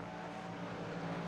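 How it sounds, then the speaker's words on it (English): Race car engines from a sim racing video game after a Daytona 24-hour race, a steady, continuous drone of engine noise held low in the background with no talk. "Let's keep the engines running in the background."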